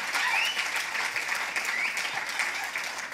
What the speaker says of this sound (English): Yes, clap hands.